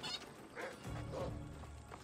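Chickens honking and squawking in the video game Assassin's Creed Odyssey, in a couple of short bursts over a steady background hum, no talking.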